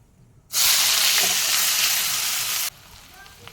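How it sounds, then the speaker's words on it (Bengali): Chopped onion hits hot oil seasoned with white cumin seeds, setting off a sudden loud, sustained sizzle that lasts about two seconds and then cuts off abruptly, leaving quiet. "সাদা জিরে ফোড়ন এখন দেব পেঁয়াজ কুচি"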